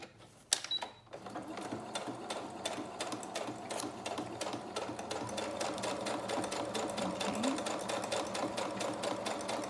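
A sewing machine stitches lace down onto fabric in a snippet craft project, a rapid, even mechanical chatter running steadily and fairly quietly after a couple of sharp clicks at the start.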